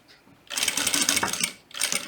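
A sewing machine stitches a zipper on a butterfly-style zippered pouch, running in two bursts: a longer steady run of rapid stitching, a brief pause, then a second short run, close and fairly loud with no talk.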